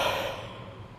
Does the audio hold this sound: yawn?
yes